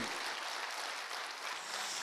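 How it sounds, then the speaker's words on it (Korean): A church congregation at a fasting prayer retreat claps together in a dense, steady wash of applause, heard from a distance at a soft level, with no voices over it. "하나님께 영광의 박수요. 크게요 크게."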